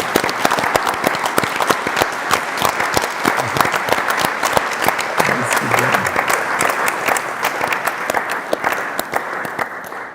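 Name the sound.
audience clapping at museum handover ceremony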